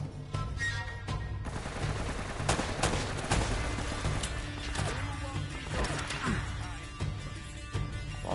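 Gunfire in the Uncharted Nathan Drake Collection video game, a string of sharp shots and impacts scattered across the clip over steady game background noise, heard alone without talk.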